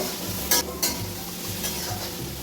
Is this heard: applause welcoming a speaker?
no